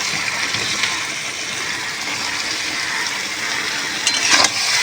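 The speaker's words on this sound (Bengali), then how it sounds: "বাঁধাকপিগুলো এবার দিয়ে দেবো মশলার সাথে।" Washed, chopped cabbage goes into a pan of frying spiced potatoes, giving a steady, loud sizzle that rises into a brief sharper hiss near the end.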